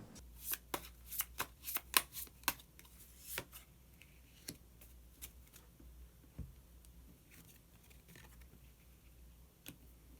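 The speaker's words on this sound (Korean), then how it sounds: "그러면 마지막으로 히든카드 한 장 더 뽑아보도록 하겠습니다" Tarot cards shuffled and drawn by hand, a quick burst of crisp riffling flicks and slaps over the first few seconds, then sparser single card snaps and slides, close and fairly quiet with no voice.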